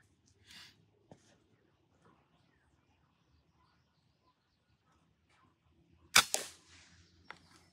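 An airgun fired once at a target with the scope set, a sharp close crack followed by a short clatter, after several quiet seconds of faint handling and small clicks.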